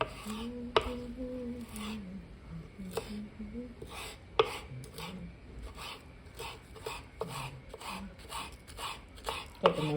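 Onion chopped small with a sharp knife on a board, a close run of crisp, uneven knife taps with scattered louder strikes, over faint background noise and no talking.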